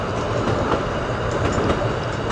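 Kalka–Shimla toy train climbing a winding mountain line in the monsoon, a steady close rumble of wheels and carriages rolling on without pause, no voices.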